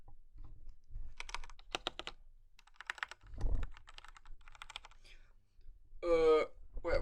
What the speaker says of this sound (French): Donc je vous fais écouter le clavier.